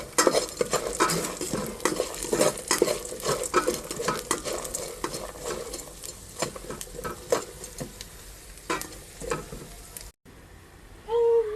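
Puliyogare, a tamarind rice dish, is stirred in a pot with a utensil that scrapes and clinks repeatedly in an uneven rhythm at close range over a faint sizzle, before a brief cut to quieter sound.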